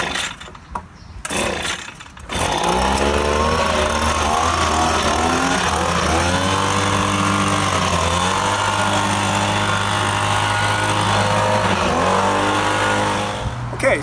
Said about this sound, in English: we're just going to go ahead and use the hand blower